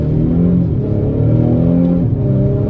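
A turbocharged diesel Audi accelerates with a steady, loud, continuous engine drone and rising harmonics, close by, with no talk over it.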